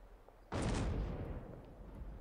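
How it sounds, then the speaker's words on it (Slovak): A caravan blows up in a video game with a sudden heavy boom that rolls into a long, rumbling roar. It is fairly loud against a quiet background and no one speaks over it. "Vybuchol karavan."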